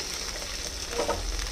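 Ground spices with turmeric and salt frying in oil for a light river fish curry give off a brief, steady, close sizzle with soft stirring, and no voices.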